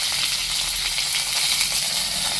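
Curry leaves crackle and sizzle in hot oil while a raw mango chutney tempering is made, a dense, steady frying hiss that runs unbroken and close with no talking over it.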